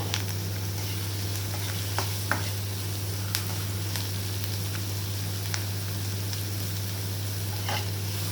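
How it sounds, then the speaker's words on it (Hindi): Paneer bhurji roasts and browns in a pan with a continuous close sizzle, broken by occasional faint scrapes and taps of stirring, over a steady low hum. "ये आपको ध्यान रखना है कि अच्छे से भूननी है इसको, वरना बाद में कच्चा कच्चा लगता है।"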